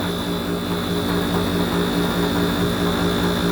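A York air conditioning condensing unit runs steadily, its motor-compressor giving a loud continuous hum with a tonal drone and fan whoosh, close up and with no one speaking.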